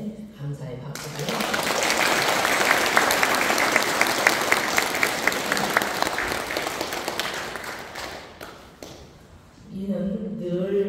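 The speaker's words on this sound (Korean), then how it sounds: "감사의 박수를" Warm applause rises from a congregation at a Won Buddhist temple installation ceremony, swelling into a sustained round with scattered sharp claps, then fading as a speaker's voice returns.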